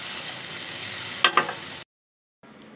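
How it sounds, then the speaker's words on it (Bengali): A spice mixture with salt and green chillies for rohu fish curry sizzles steadily in a pan, two sharp bursts of spitting as water goes in, then abrupt silence before a quieter hiss resumes. "মশলা কষিয়ে আসছে, এবার দিয়ে দিব পরিমাণ মতো জল।"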